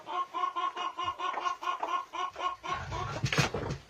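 A hen in a backyard poultry yard clucks in a rapid, rhythmic series of close, loud calls, followed by a brief burst of louder scuffling and flapping at the end.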